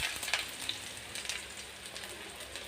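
Onions with green chillies sizzling steadily in a hot pan, a dense continuous frying hiss with small crackles throughout, close and fairly quiet, no talking.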